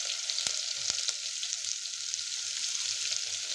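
Green chili paste sizzles steadily as it sautés in a pan for aloo tikki, a close, continuous frying hiss with a couple of brief clicks near the start.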